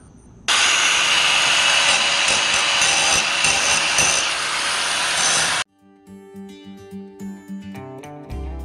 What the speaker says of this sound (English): Now we're just going to take the grinder, grind off those rough edges right here.